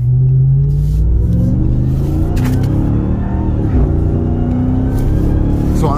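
Ram TRX Hellcat truck accelerating hard from close range, a deep loud rumbling engine whose pitch sweeps upward through gear changes, with brief shifts and continuous roar over six seconds.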